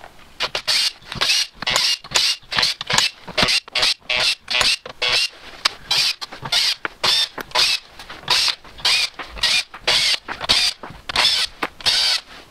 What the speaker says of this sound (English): So to remove the valve body, we have to remove all the black bolts.